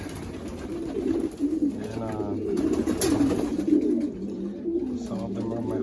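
Pigeons coo steadily in a loft as stock hens are bathed, with low rolling coos repeating close to the microphone, and someone says a single word.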